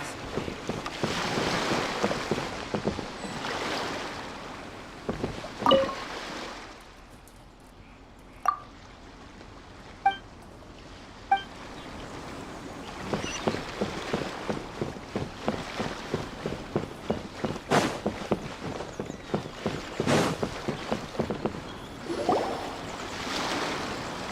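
A boat sails through open water in a video game, with wind and waves rushing past, a run of rhythmic splashing thumps and a few bright chime-like effects, and no voices.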